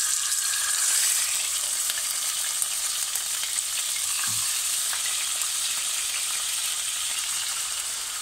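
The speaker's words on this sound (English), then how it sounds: "Now this is going to sputter when it goes in, and I just want to brown these on all sides." Drained chicken pieces brown in hot oil in a small pot, giving a steady, bright sizzle and sputter that holds evenly and fades slightly toward the end.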